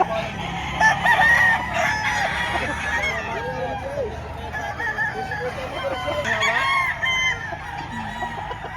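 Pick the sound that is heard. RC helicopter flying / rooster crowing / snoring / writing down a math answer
rooster crowing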